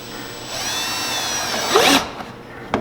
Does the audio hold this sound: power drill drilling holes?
yes